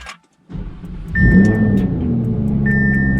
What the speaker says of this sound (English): The cold starts aren't the same anymore.